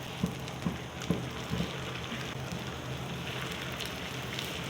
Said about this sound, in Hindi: घी गर्म हो चुका है, डालते हैं कबाब।